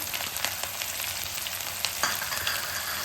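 Chopped onions hit hot oil with popping mustard seeds on a low gas flame, giving a steady bright sizzle with scattered crackles and pops, close and continuous without any talking.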